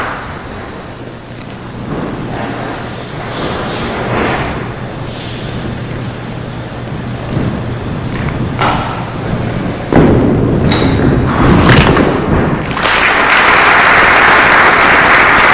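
A televised 2004 men's five-pin bowling match: a ball rolls down the lane, then a strike crashes into the pins, followed by swelling crowd applause that carries on loudly to the end.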